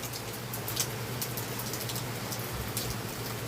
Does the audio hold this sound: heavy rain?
yes